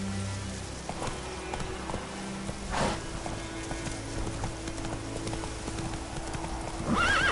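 A horse in a video game gallops with quick, rhythmic hoofbeats close by, a whinny breaking out partway through and again near the end.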